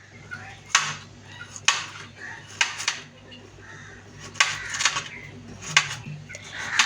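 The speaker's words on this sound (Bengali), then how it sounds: "সালাদগুলো কেটে নেব।" Salad vegetables are sliced with a knife on a board, giving a series of crisp, irregular chopping taps at close range over a low background hum.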